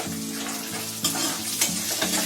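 Peanuts dropped into hot oil for a tempering with garlic, curry leaves and chilli, a loud, dense, continuous sizzle up close with a few brief stirring scrapes.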